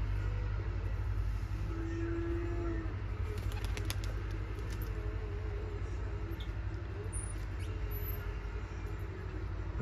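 Pigeons at a loft take off in a burst of flapping wings over constant low outdoor rumble and hum, with faint bird calls around them.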